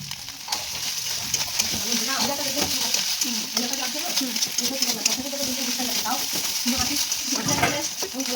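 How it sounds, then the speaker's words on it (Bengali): Banana stem fries with spices in a pan, a steady sizzle under frequent scraping stirs, while a person talks through most of it. "আমি ভালো মতো করে একদম ফ্রাই করে নিচ্ছি যাতে মশলার সাথে থোড়গুলো একদম ভালো মতো লেগে যায়"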